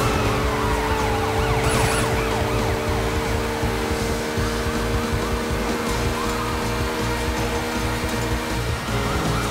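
Several police sirens in the video game Sleeping Dogs wail and sweep over one another loudly, with a rumbling engine underneath, continuous throughout.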